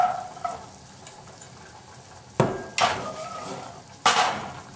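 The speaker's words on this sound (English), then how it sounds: "So add the green beans to the pot." Green beans tumble into a pot of water on a home stove, a few sharp clattering knocks and splashes standing out against a quiet kitchen background.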